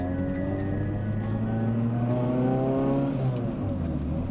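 A Honda Prelude engine revs while driving, a loud, steady drone whose pitch climbs smoothly and then drops back as the car eases off, close to the microphone and with no talk over it.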